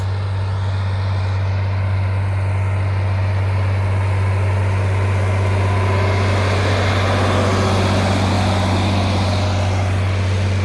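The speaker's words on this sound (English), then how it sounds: "It's a nice tractor to be out here working and tilling" A John Deere 4320 tractor rotary hoeing an organic corn field gives a loud, steady engine drone with a strong low hum that holds throughout, with no speech.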